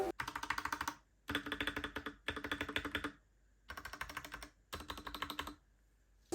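Bursts of brisk typing on a Gamakay MK68 mechanical keyboard with pudding keycaps and no stabilizer rattle, clean, crisp clicks and clacks separated by short pauses, close and moderately loud.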